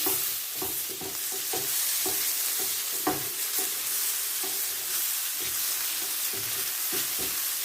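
Chicken shashlik mixture with ginger sautés in a pan with a steady sizzle, while a spoon stirs and scrapes in repeated sharp knocks throughout.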